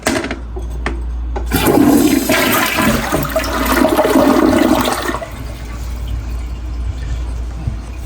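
A newly installed toilet flushing, a loud close rush of water that starts abruptly, swirls for a few seconds, then settles into the quieter hiss of the tank refilling.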